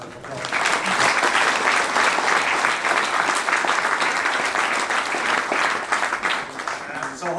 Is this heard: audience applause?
yes